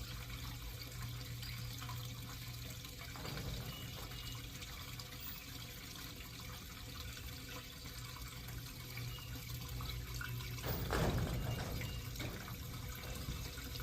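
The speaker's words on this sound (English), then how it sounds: "This is probably the fastest flowing nozzle I've ever used." Gasoline pours from a TuffJug nozzle into a tank in a quiet, continuous liquid stream, with a brief louder gurgling splash near the end.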